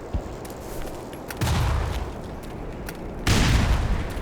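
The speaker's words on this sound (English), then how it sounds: "Let's do one more grenade here" Grenade blasts in the video game Black Mesa: two heavy booming explosions, one around the middle and a louder one near the end, each followed by rumbling debris noise over constant game background sound.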